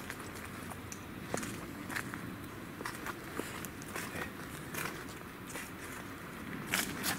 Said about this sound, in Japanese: なんか今足音聞こえた